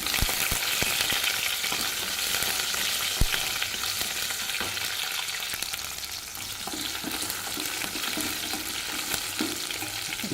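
Garlic and curry leaves sautéing in hot oil for a Tamil pirandai kuzhambu, a dense continuous close sizzle with occasional crackles and stirring taps, no voices.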